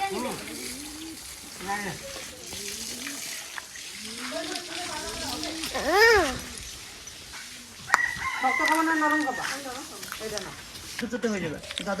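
Chickens cluck and a rooster crows loudly mid-way on a backyard poultry farm, with people talking throughout and occasional water sounds.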